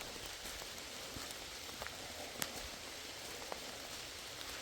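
Heavy rain falls on wooded private land on a rainy evening, a dense, continuous patter with occasional sharper drops close by and no voices.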